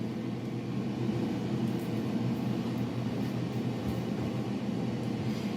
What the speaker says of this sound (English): I've got my air fryer cooking my turkey breast right now.